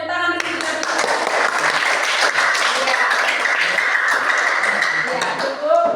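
A classroom full of students claps together in a dense, steady burst of applause lasting several seconds, with a few voices mixed into the clapping.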